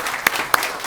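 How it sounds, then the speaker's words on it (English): An audience at a local government leaders' morning event applauds the featured speakers: a brief, dense patter of clapping with two sharper claps standing out close by. "All right, a round of applause."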